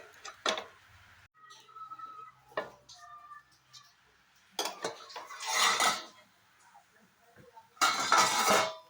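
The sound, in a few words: covering a pan of sabudana thalipeeth with a lid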